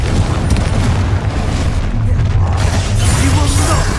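A Confringo fire spell explodes during combat in Hogwarts Legacy, a loud, sustained booming blast with continuous low rumble that fills the whole moment, with no voice over it.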